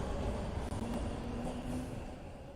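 Train in the video game Kuro no Kiseki, a steady low rumble of a moving rail car with faint wheel and rail noise, filling the short moment at an even level with no voices.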